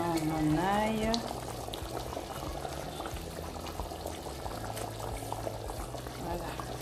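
Garlic goes into a smoked chicken stew with okra and eggplant simmering in a pot, and a steady bubbling and sizzling carries on throughout, with a brief spoken phrase near the start.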